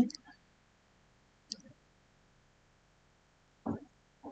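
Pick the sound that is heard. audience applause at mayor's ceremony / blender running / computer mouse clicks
computer mouse clicks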